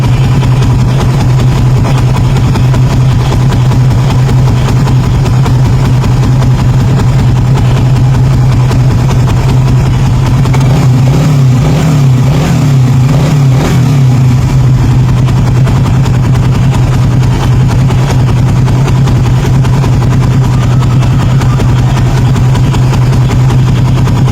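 Suzuki Raider 150 Fi motorcycle engine idling steadily after a radiator coolant refill, a continuous low hum throughout with a brief rise around the middle.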